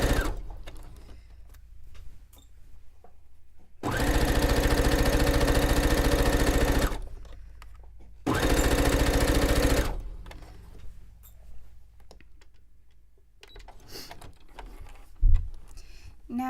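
A sewing machine runs a straight stitch on fabric from a men's button-up shirt, whirring loud and close in two steady runs of about three and one and a half seconds, with quiet handling noises between and after.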